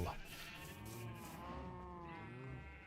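Sheep in the Minecraft video game bleat in a steady, drawn-out wavering cry that runs for nearly three seconds, loud and close, with background game ambience beneath.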